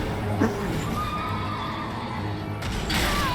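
The Knights Cavalry boss's horse in Elden Ring neighs and snorts amid ongoing combat noise, with a sharp hit near the start and a steady low rumble of hooves and battle sounds.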